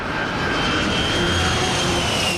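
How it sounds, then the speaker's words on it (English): A loud, steady jet engine roar with a high whine fills the air, as a Boeing 747 airliner passes close overhead. "Now you're looking at a big 747 coming at you."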